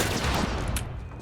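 Dense burst of gunfire in The Last of Us, a rapid fusillade of overlapping shots filling the whole moment at steady loudness with no voices.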